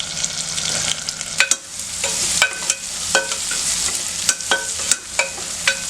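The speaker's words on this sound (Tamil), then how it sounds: "இதையும் போட்டு தாளிக்கும் போது" Oil sizzles and crackles steadily in a pan as garlic is tempered for sambar, with sharp spattering pops and the clink of stirring, close up and without talk.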